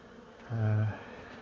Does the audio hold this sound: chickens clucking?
no